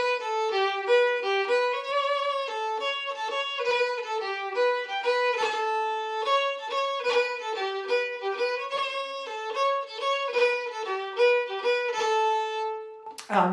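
The Spanish piece Asturias is played slowly and solo, with a steadily repeated note under a moving line of bright, ringing notes. The performance is close and moderately quiet, ending with a brief scrape.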